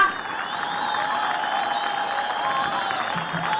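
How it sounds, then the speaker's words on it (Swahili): Crowd at a Machakos youth service pass-out ceremony applauding again, a sustained mid-distance wash of clapping and crowd noise, with a faint tonal whine running over it. "Wapigeni makofi tena"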